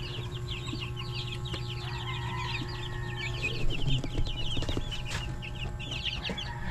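Five-day-old broiler chicks cheep in a steady cluster of high, rapid peeps, close and continuous, over a constant low hum, with a few louder clatters near the middle.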